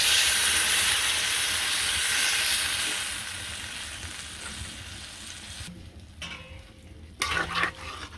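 Vegetable curry of sweet gourd, eggplant, local gourd and potato on a gas stove hisses and sizzles loudly as liquid is added. The steamy hiss fades over several seconds, followed by a few soft clinks and stirring scrapes near the end.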